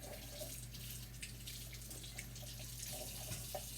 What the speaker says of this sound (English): rinse out to get any grit that might be between the layers of the leek